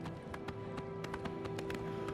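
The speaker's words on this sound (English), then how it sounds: "my horse can't get over a dead tree." Horse hooves clip-clopping in the game Oblivion Remastered as a mount is ridden, a steady series of soft thuds over a sustained music or ambient drone, without talk.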